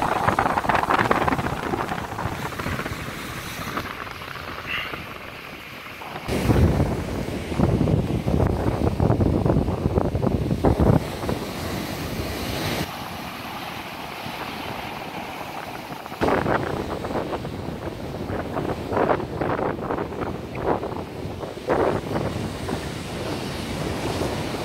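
Ocean waves wash and break at Praia Mole beach in Florianópolis, a continuous surf roar heavily buffeted by wind noise, with surges rising and falling throughout.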